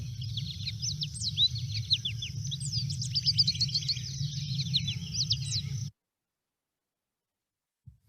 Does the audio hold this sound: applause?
no